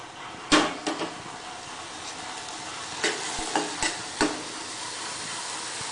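Sweet corn seasoned with salt and pepper sizzles in a pan, a steady frying hiss with several sharp clanks and knocks as it is tossed and stirred, close and without talk.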